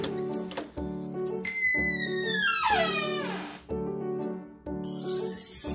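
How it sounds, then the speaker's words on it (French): A single drawn-out creak sweeps downward in pitch as a door swings open, heard over steady background music. "C'est une porte qu'on ouvre."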